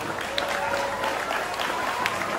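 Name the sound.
audience clapping to welcome guests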